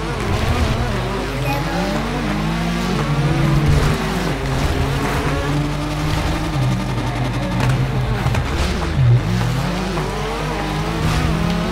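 Engine drone of racing cars in a video game runs steadily throughout, with shifting pitch sweeps and tire squeal, a continuous loud mechanical whine under the mix.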